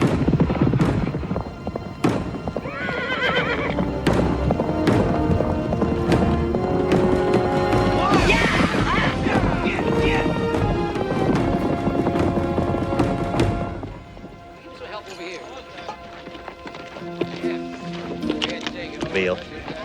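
Horses approach with rapid clip-clop hoofbeats and thudding, loud and close, mixed with music, then fade to quieter hooves; voices are not clearly heard.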